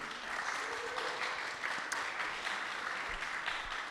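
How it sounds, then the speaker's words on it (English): At a talk on evil and suffering, an audience applauds two speakers with a steady, moderately faint patter of clapping that holds evenly throughout, with no voices over it. "please, a round of applause for John Michalak and Elliott Martin"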